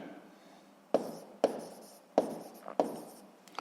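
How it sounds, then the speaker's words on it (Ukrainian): A pen writing on paper, with several short scratchy strokes each starting sharply and then fading, close and quiet, separated by brief pauses. "Записуємо"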